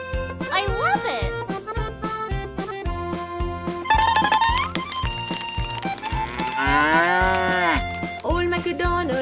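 A cartoon cow moos repeatedly in an Old MacDonald nursery rhyme, the drawn-out moos riding over a bouncy children's music backing with a steady beat.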